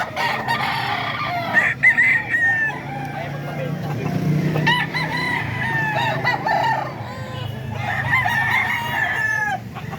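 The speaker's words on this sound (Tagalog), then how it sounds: "Gandang manok ito mga ka-idol." Fighting cocks crow repeatedly nearby, with clucking and a busy outdoor background, while people talk now and then.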